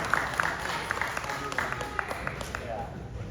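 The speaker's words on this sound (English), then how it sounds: "Let's give a round of applause to Oris." An audience at an Oris and Bob's Watches evening event in 2023 breaks into a moderate round of applause, with clustered claps and crowd murmur over a steady room hum.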